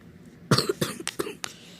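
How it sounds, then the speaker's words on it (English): A short burst of several dry coughs from one person, close and fairly loud after a quiet pause, in a hushed indoor setting. "I have a really bad cough"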